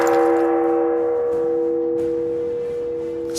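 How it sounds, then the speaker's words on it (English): A big church bell rings in a motion comic scene, one sustained metallic tone with strong humming overtones that slowly decays alone, with no other sound over it. "the big church bell ringing"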